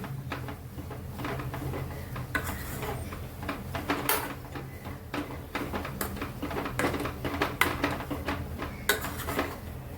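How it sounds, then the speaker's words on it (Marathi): A spoon scrapes and clatters against a pan while a seasoned vegetable mixture is stirred, with steady irregular metallic knocks and scraping continuing close up for the whole stretch, no voices. "चांगलं मिक्स करून घ्यायचं."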